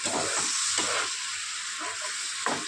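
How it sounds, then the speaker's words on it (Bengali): Poppy seed paste with green chilli is stir-fried in hot oil, giving a steady close sizzle and hiss with occasional scraping strokes of the spatula in the pan. "এবার পোস্তটা দিয়ে কিছুক্ষণ কষিয়ে নেব।"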